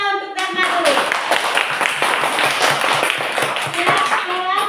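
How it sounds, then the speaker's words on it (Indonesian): A classroom of student teachers in Merauke claps for a classmate after her presentation: a burst of brisk, overlapping hand claps, with voices speaking just before and after. "Ya, tepuk tangan untuk Dharma dulu."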